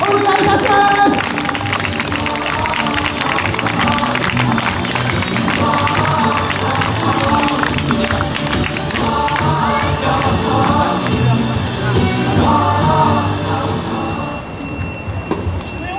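A crowd applauds wrestlers after a semi-final professional wrestling match at an outdoor shopping mall event, with sustained clapping and crowd noise under an announcer's amplified voice.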